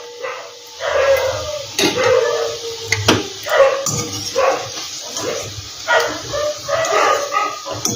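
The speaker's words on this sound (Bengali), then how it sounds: "চারিদিকে কুকুরে কেউ চিৎকার করছে" Dogs bark repeatedly in the near surroundings of a home kitchen where fig kofta curry is being cooked, several sharp overlapping bursts over a constant low murmur, with no talk.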